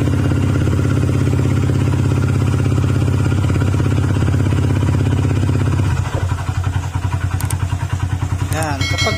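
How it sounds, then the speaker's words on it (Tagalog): A small Click scooter engine, whose oil keeps running low, runs steadily at close range, then its tone drops and a rhythmic knocking clatter comes through. A voice talks faintly in the background. "ayan ang tunog ng makina"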